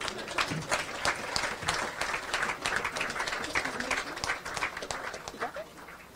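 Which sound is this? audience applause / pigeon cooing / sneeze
audience applause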